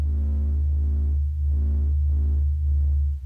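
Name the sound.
sped-up recording of the sun's pressure wave oscillations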